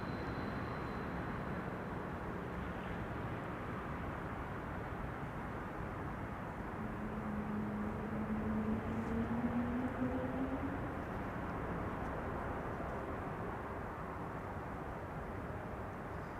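Turkish Airlines Airbus A330-200 arriving from Istanbul on approach to Schiphol, a faint distant broadband jet roar with a slowly rising engine whine in the middle, fairly steady throughout.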